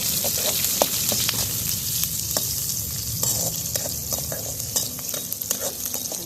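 Sliced onions fry and sizzle steadily in a hot pan, with scattered sharp crackles and occasional stirring scrapes close up, no voices.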